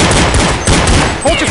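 Loud, dense gunfire in Counter-Strike 1.6, a short continuous burst of rapid shots with a few sharper reports, close and dominating throughout.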